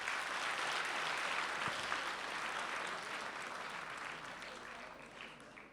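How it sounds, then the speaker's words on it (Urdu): Audience applauding a guest speaker at an event, a sustained wash of dense clapping that starts strong and slowly thins and fades over several seconds. "کن کے لیے تالیاں ہو جائیں پلیز."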